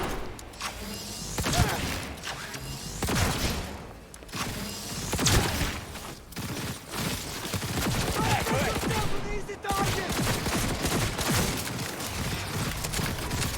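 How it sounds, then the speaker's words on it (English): A Cyberpunk 2077 gunfight rattles with dense, rapid bursts of gunfire and sharp impacts, near and loud, continuing in clustered volleys throughout with occasional speech underneath. "We're having a gunfight here."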